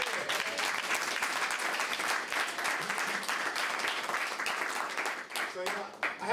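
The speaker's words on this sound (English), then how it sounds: "So I'm going to ask you for one more round of applause for her." A lecture audience gives dense, sustained applause that stays loud and even throughout, with a hint of crowd voices mixed in before it thins slightly at the end.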